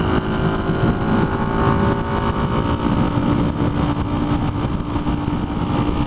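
A 1976 Honda CB125S motorcycle engine runs steadily, heard close and loud as a continuous rough drone with a low hum and no talking.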